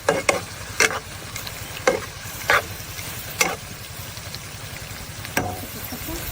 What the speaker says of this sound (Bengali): এবং জিরা গুঁড়া রসুন বাটা আছে সব কিছু দিয়ে কষিয়ে নিই